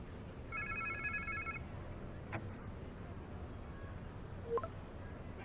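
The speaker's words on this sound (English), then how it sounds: "Sounds like somebody's phone." A mobile phone rings in the game Marvel's Spider-Man 2, a short burst of electronic ring tones early on, faint against a low ambient game background with a couple of brief clicks afterward.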